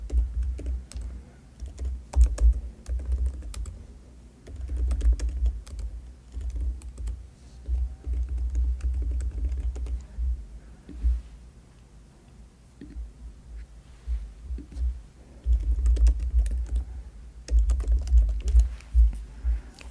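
Someone types beneficiary details on a computer keyboard in irregular bursts of close, soft clacking keystrokes with short pauses between runs, over a low background hum and with no speech.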